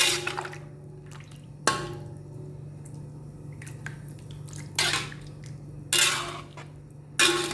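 Water is poured into a pot of fried spices while gulai cooks, with several short splashing bursts and clinks of pan and utensil over a low steady hum, close and moderately loud.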